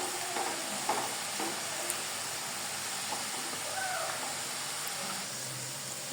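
Ginger fries gently in a pan for chicken pickle, giving a steady soft sizzle with a faint hiss and a few light stirring taps, fairly quiet and unbroken throughout.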